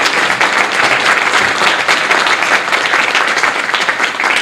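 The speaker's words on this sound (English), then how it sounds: "Please, another round of applause for them." Sustained audience applause at a Spirit of Rotary award ceremony, a dense, steady wash of many hands clapping without break for several seconds, loud and even throughout.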